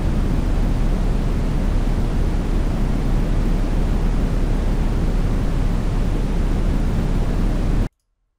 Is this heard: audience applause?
no